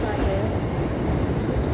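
A class 456 electric train pulls out of Glasgow Central station, giving a loud, close, continuous rumble of wheels and motors under the station roof, with voices heard over it.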